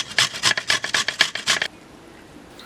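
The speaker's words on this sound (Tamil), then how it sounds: "காய் சீவிற கட்டையில் வாழைக்காயை தூளை சீவி எடுத்துக்கலாம்" Raw plantain shaved on a wooden vegetable slicer board: about ten quick, even rasping strokes in a steady rhythm, close and clear, then stopping abruptly into quiet.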